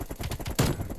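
Rapid gunfire bursts from a strafe run in the video game Call of Duty Cold War, a short close rattle of shots with one louder impact midway.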